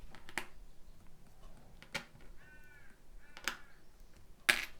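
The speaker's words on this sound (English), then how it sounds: "I just heard one of the crows coming in. Just heard it calling." Several crow caws ring out at a moderate distance, spaced irregularly across a few seconds, with a short sharp click near the end against quiet background hiss.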